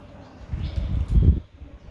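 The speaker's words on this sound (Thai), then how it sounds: "ตอนนี้เป็นการจำลองลมนะครับ ลมพัดเข้าโดยตรงสู่โทรศัพท์มือถือนะครับ" Low, rumbling wind from an electric fan about one metre away buffeting a mobile phone microphone, swelling and fading in gusts.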